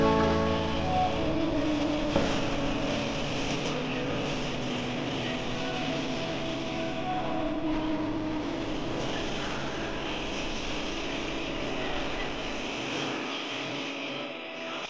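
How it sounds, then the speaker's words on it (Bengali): A fast train runs along the tracks, heard from a window seat as a steady, continuous rumble and hum that holds evenly throughout, loud and near. "জোরে যখন ট্রেনটা যায়"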